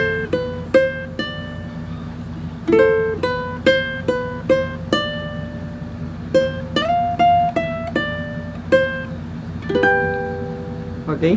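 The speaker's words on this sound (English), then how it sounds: "So our refrain sounds like this." Fingerstyle ukulele picks out the refrain of a song, with plucked single notes and small chord clusters ringing in a steady, moderate rhythm, close and clear, with no voice over it.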